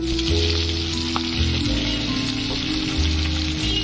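Pieces of fish fry in hot oil in a pan, giving a steady, close, crackling sizzle that runs unbroken throughout with no talk.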